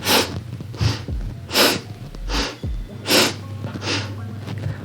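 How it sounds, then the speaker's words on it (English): Rapid sniffing breaths in and out during a yoga flow, about six sharp nasal bursts in an even rhythm, close to the microphone with no talking. "make a different breath here, sniffing in and sniffing out"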